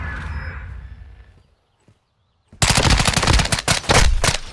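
Rapid automatic gunfire from Call of Duty Modern Warfare II bursts in loud and close after a brief near-silence, sustained rattling shots with a fading tone at the start.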